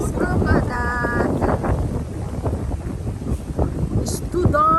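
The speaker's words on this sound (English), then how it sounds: "It's too dark and too windy." Strong wind buffets the microphone at a saltwater fishing pond in Penang as rain approaches, a loud, steady roar with gusts under a person talking.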